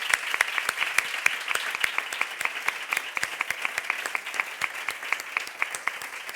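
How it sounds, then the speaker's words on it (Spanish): An audience applauds steadily, many hands clapping in a dense, even patter that continues the whole time without anyone speaking. "terminamos también con ese aplauso a los que están a través de la cámara"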